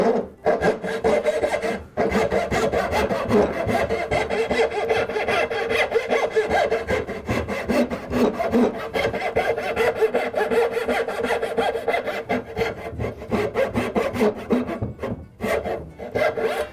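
A hand saw rasps steadily through wood, cutting dovetail tails for a splayed stool, in close, loud, rhythmic back-and-forth strokes that run almost without pause and carry no talking.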